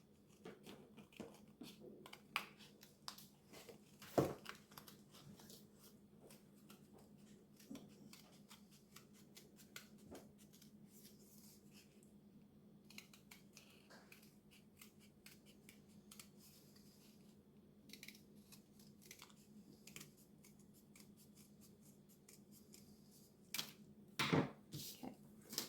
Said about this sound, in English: I'm going to cut it with paper cutting scissors.